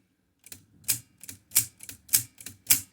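Keys struck one after another on a Torpedo Dynacord S typewriter whose keys don't travel down far enough: seven crisp, loud mechanical clacks at a steady rhythm, close up, with no voices.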